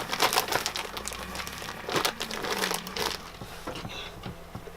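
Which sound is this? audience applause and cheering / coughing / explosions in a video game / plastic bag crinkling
plastic bag crinkling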